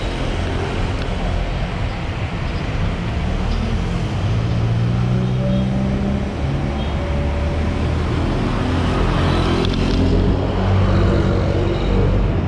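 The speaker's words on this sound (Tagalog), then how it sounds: "Traffic." Steady, loud road traffic rumbles beneath flyovers, with continuous engine drone and low hum from passing cars and buses, a dense close wash of vehicle noise with no clear breaks.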